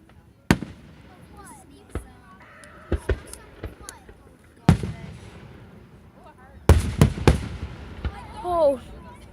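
Fourth of July fireworks explode outdoors, loud sharp bangs coming singly and then in a rapid cluster of cracks near the end, with quiet voices murmuring in the gaps.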